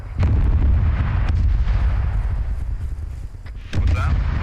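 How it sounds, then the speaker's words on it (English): Distant explosions rumble through an Arma 3 military simulation battle in the Balkans, a loud low boom at the start and another near the end, each with a sustained roll under faint background activity. "Explosions, I think it's on the old point to the southeast of us"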